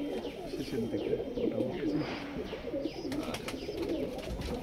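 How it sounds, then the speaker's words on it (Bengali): A pair of high-flyer pigeons at a family home in Krishnagar, Nadia coos in repeated low burbling calls close by, while a person speaks briefly over them. "লাস্ট এক জোড়া পায়রা"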